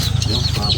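Chickens cluck continuously and close by on a game fowl farm where day-old chicks are raised, a brief dense burst of overlapping bird calls with no talk.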